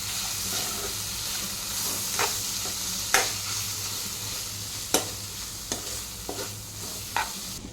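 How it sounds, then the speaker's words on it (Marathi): Paneer bhurji stirred in a hot pan: a constant frying sizzle with a low hum, broken by a series of sharp scraping clacks from the spatula at irregular intervals. "आता मस्त मिक्स करून घ्या"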